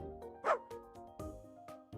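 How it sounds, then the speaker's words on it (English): A cat lets out a short series of sharp, bark-like yips and chirps, four or five close, fairly quiet calls spread over a couple of seconds. "That was literally a bark."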